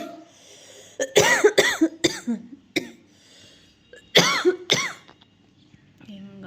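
A person with a cold coughs in two bursts of several harsh, closely spaced coughs, close to the microphone in a quiet room.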